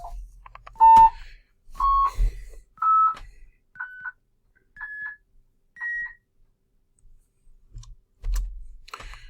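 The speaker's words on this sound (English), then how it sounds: "this is an example of this code running and generating these annoying beep sounds" A series of electronic beeps, each a little higher than the last, sounding one after another with brief gaps, accompanied by faint clicks and thumps.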